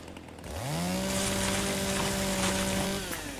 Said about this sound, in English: And let's give it a try now with the chainsaw.